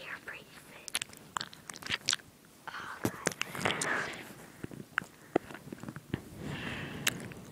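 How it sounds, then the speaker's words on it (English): A sleeping person chews in their sleep, giving soft, close, irregular wet mouth clicks and smacks, with quiet whispered voices nearby. "She's chewing."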